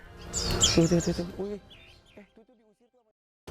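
Scaly-breasted munia finches in an aviary give brief chirps and tweets, a few small calls rising in the first seconds and fading out toward the end, with no clear speech.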